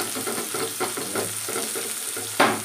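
Chopped onions fry and sizzle in a pan for a katla fish curry, with rhythmic stirring strokes repeating over the steady hiss and a sharper scrape near the end.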